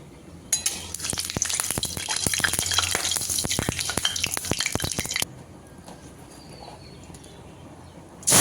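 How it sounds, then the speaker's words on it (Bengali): Mustard oil poured into a hot wok sizzles loudly and crackles for about five seconds, then drops to a quiet simmer, with spattering pops throughout. "কড়াই গরম হয়ে গেছে দিয়ে দিচ্ছি সর্ষে তেল"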